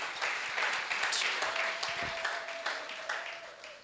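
A church congregation applauds to acclaim the Lord, steady dense clapping from many hands at moderate distance, continuing evenly throughout with a faint tone and murmuring beneath.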